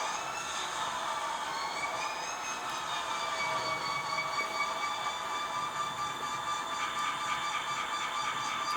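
A steady mechanical locomotive hum with sustained tonal whine plays continuously from the DCC sound decoder of an Auscision C Class model locomotive, a small electronic engine sound droning evenly without pause.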